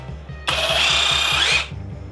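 A ProCraft HD 20A cordless rotary hammer runs in a kickback-control test. A loud, high-pitched whirring burst lasts about a second, then cuts off abruptly, with no talk.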